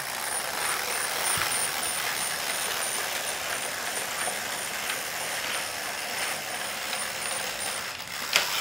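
A 72-year-old American Flyer 4-4-2 Atlantic toy train runs on its track under its original power pack, giving a steady close mechanical whir and rattle with small clicks, ending in a sharp knock.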